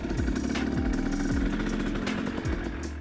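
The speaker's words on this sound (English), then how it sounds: "I like to ride around for a few minutes, just going easy, and slowly bringing the bike up to its normal RPMs" A two-stroke dirt bike ridden easily while warming up, its engine puttering at modest revs with repeated rising and falling pitch sweeps as the throttle is rolled on and off, fairly close and steady throughout.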